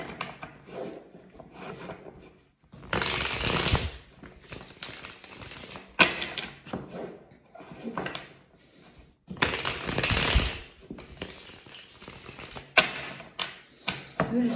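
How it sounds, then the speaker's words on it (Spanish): A deck of cards being shuffled in bursts, crisp riffling and flapping sounds at close range, separated by quiet pauses, with no talking. "Estoy calentando las cartas."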